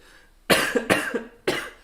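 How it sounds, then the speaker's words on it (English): Three sharp, close coughs from someone with seasonal allergies, the first two quick together and a third after a short pause, loud and unaccompanied. "Are we supposed to cough into our elbows now?"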